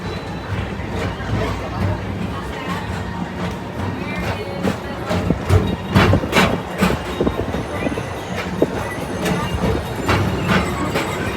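A Tomorrowland Transit Authority PeopleMover ride vehicle glides along the TTA Blue Line track at Magic Kingdom, giving a steady rumbling roll with light rail-like clatter and occasional sharper knocks, heard up close and continuous throughout.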